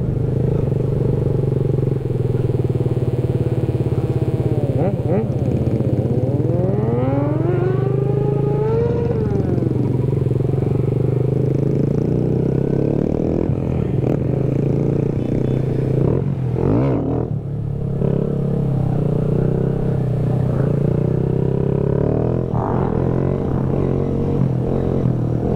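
Kawasaki Z125 motorcycle engine held at steady revs during a slow wheelie, a continuous loud close drone with a rising then falling pitch sweep in the middle.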